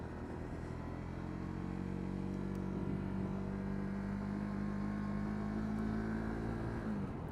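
A Honda CB 125 R motorcycle ridden at speed on an A road, its engine holding a steady drone with a rising tone near the end, wind rumble constant underneath, no voices.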